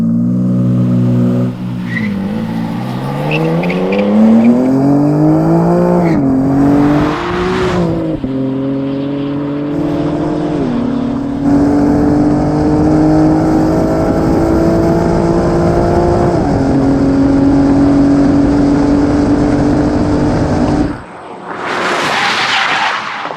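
A 2021 BMW M4 Competition revs and holds for launch control, then accelerates hard through several rising gear pulls with brief shift dips, loud and close, before cutting off as the tires squeal in hard braking.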